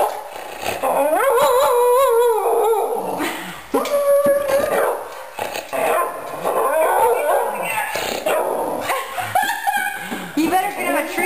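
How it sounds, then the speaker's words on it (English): Rocky, a pet dog at home, barks and howls in drawn-out, wavering yowls and yips, loud and close, while people talk to him over the noise. "Yeah, he's barking."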